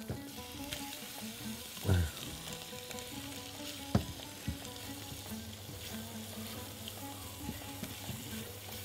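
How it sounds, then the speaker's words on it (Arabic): Meat, with liver and hearts, frying in ghee in a pan for a tagine, a quiet steady sizzle with a few brief clatters of a utensil and no talk. "يعني الاول ننزل باللحمه بتاعتنا لان بتاخد وقت شويه عن لحمه بتلو"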